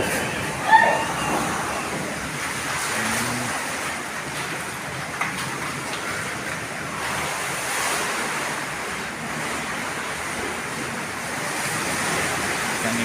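Steady roaring wind from Super Typhoon Tino in Cansilyan, broadband rushing noise, gusting slightly throughout, loud and close with no voices.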